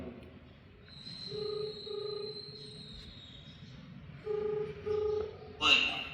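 Telephone dialing or ringback tones on a phone call, heard as short paired beeps in a few separate bursts over a quiet line, with a longer high steady tone earlier and faint background voices.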